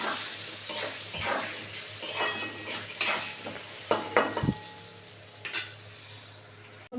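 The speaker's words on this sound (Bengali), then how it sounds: "একটু নাড়াচাড়া করে একটু ভালো করে ভাজা হবে আলুটা" Potato pieces with turmeric sizzle in a pan for mixed vegetable curry while a utensil scrapes and stirs in irregular bursts, with occasional metallic clinks against the pan over the steady frying hiss.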